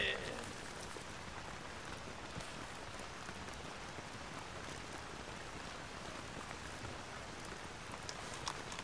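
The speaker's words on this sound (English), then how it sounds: "Worst part about this is the fucking rain" Rain falls steadily in the military video game Arma 3, a soft continuous hiss of drops on surfaces, faint and even throughout with no talking.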